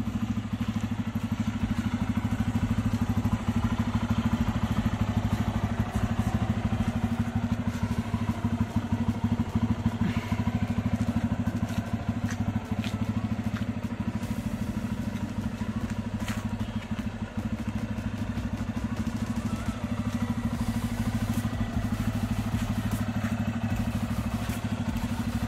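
A 2023 Bajaj Pulsar F250 motorcycle idles steadily, a deep, bass-heavy rumble holding even and continuous throughout, with a faint mechanical clatter on top and no talk.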